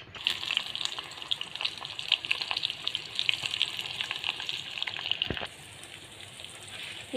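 Onions drop into smoking-hot oil and fry with a dense, loud crackling sizzle that holds steady, then eases to a softer hiss near the end, with a single clunk just before; no talking.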